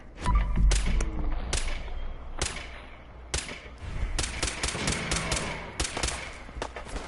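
Gunfire in Fallout 4 during VATS targeting, with a burst of sharp, loud shots followed by several more spaced single and clustered shots, punchy and close with heavy low thumps.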